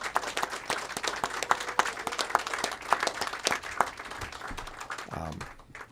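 An audience at an evening author talk gives a warm round of applause: dense, continuous clapping from many hands that fills the room at an even level, thinning slightly near the end.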